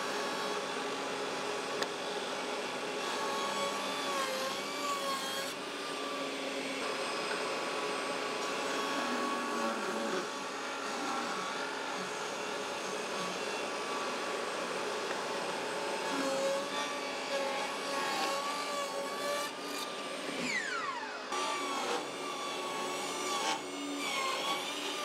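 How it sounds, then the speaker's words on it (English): A table saw ripping wood strips to about 18 millimetres for end grain coasters drones steadily for the full length, a loud continuous motor whine with the blade's pitch shifting as each piece feeds through, and no voices. "rip all this stuff through the table saw at about 18 millimeters"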